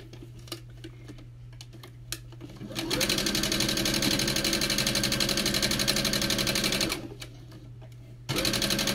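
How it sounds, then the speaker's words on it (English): A sewing machine stitches a straight quilt seam, opening with a few light clicks over a steady hum, then a loud, rapid, even run of stitching lasting several seconds, a pause, and a second burst starting near the end. "I'm going to sew straight down this side"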